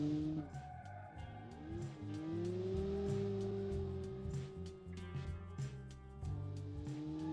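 A 1989 Mitsubishi Starion with about 194 horsepower laps a handling circuit in the Automation driving game, its engine note rising and falling through gear changes while tires squeal in the corners, steady and fairly quiet.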